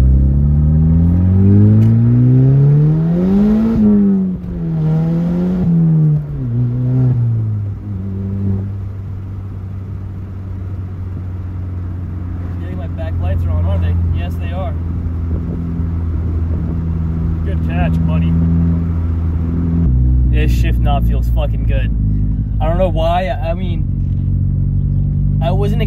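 A Volkswagen GTI fitted with a short shifter and fresh gear oil is driven through its gears, its engine rising and falling in pitch with each shift, loud and close, under talk from inside the car.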